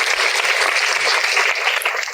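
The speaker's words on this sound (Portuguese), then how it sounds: "uma salva de palmas pra Jéssica" An audience at a literary talk event applauds, a loud, dense, continuous clapping from many hands filling the whole short stretch.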